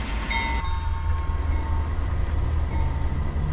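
A CP AC4400 diesel locomotive in Train Simulator 2020 pulls away from a stop, its heavy low engine rumble building steadily under a faint horn-like tone, continuous and close, with no talking.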